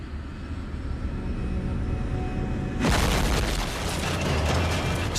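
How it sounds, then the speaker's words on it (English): Jet engines drone steadily inside a jumbo jet airliner in flight bound for Tel Aviv, then a sudden loud jolt bursts in as a broad roaring rumble that stays heavy and turbulent. "Suddenly, a terrifying jolt rocks the plane."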